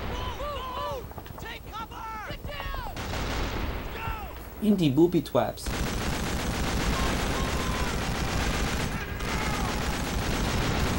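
Gunfire from the World War II shooter Call of Duty 2: Big Red One, steady rattling bursts running nearly throughout, loud and dense, with someone talking over the first half and a brief sung or warbling vocal in the middle.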